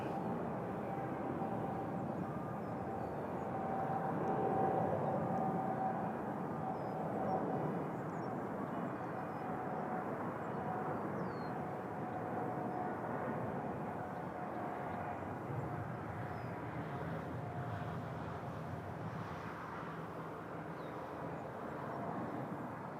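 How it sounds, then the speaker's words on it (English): A Boeing 777 jet taking off from runway 05 at Toronto Pearson, a broad sustained engine roar that swells and lingers for over twenty seconds, distant and steady with no voices. "Go for this 777 departure now."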